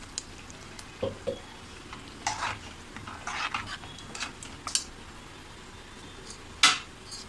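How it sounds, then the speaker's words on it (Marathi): Fish curry masala stirred in a pot for a Malvani-style sardine curry: sparse soft scrapes and light clinks of a spoon against metal, close but quiet, with gaps between strokes. "थोडं आपण असं फक्त ढवळायचं, जास्त काही करायचं नाही आहे."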